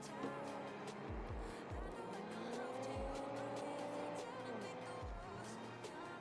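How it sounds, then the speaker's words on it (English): Cars in the Destruction Derby video game roar and skid, with tire squeals and low thuds of collisions over a steady engine drone, continuous and fairly loud. "It looked like 2 cars were colliding into each other."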